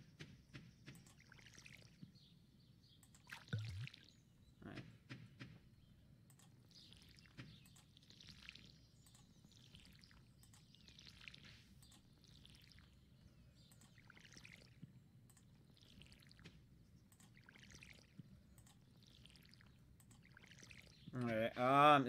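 Water poured in the Stardew Valley farming video game, a soft trickling splash that is faint under low game ambience, ending in a louder burst.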